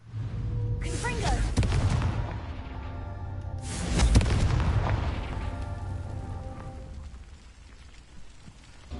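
A spell-blast explosion in the Hogwarts Legacy video game: two loud booming bursts a few seconds apart, each with a sharp crackling attack and a rumbling tail that fades, under a faint game soundscape.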